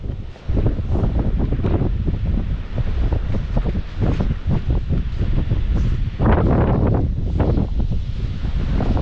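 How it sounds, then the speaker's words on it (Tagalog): Loud gusty wind buffets the microphone in rough, continuous rumbling bursts, with rustling mixed in, on a muddy motorcycle route in Calanasan. "ini-enjoy yung hangin galing sa baba."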